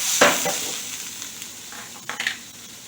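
Butter melting in a very hot pan gives off a soft hiss and sizzle, loudest at the start with a brief flare of crackling near the end, and no one talks over it.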